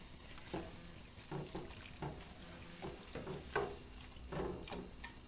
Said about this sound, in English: I'm going to stir it around a bit to mix the ingredients.